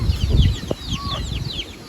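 Chickens on a small flock setting, including grown birds a year or two old, cluck in a short burst over a low rustling background, with a few higher chirps layered faintly above.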